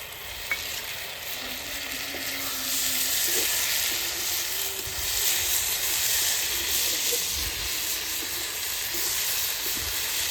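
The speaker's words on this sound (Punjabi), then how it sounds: "ਆਪਾਂ ਪਾ ਦਾਂਗੇ ਟਮਾਟਰ ਤੇ ਹਰੀ ਮਿਰਚ ਜਿਹੜੀ ਆਪਾਂ ਨੇ ਕੱਟ ਕੇ ਰੱਖ ਰੱਖੀ ਆ" Chopped tomatoes and green chillies sizzle steadily in a pan over a wood-fired stove, a constant close frying hiss with occasional light clinks and stirring sounds.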